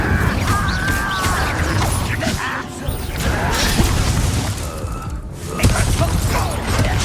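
Fire spell cast in combat in Hogwarts Legacy, a dense loud mix of whooshing magic, crashing impacts and booms, with a voice heard briefly through the busy battle sound.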